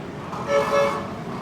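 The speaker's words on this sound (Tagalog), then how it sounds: "kasabay mo yung ingay ng mga jeep, mga bus, lahat yung mga busina nila." Short jeepney and bus horn toots sound twice over steady street traffic noise, moderately loud against a busy road background.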